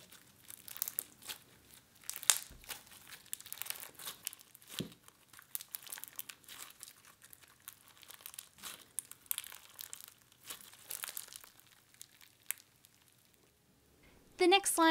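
Stretchy, crunchy glittery slime being played with, giving a steady stream of close crinkly crackles and small pops for most of the stretch, ending in a brief louder burst of crunching.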